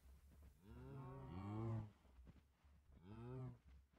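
A Minecraft cow gives two drawn-out moos, the first longer and louder, the second shorter after a brief pause, heard clearly without talk.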